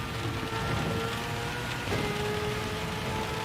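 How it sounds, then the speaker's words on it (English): Heavy rain falls during a race in the Gran Turismo 7 video game, a dense steady hiss of rainfall with faint engine tones underneath, continuous and even in loudness. "that rain sounds a bit heavier"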